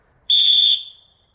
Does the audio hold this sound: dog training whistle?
yes